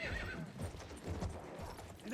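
Horse hooves clip-clopping with a neigh in the video game Battlefield 1, cavalry in a battlefield setting; fairly quiet, rhythmic hoofbeats with a whinny near the start, blended with game sounds and voices.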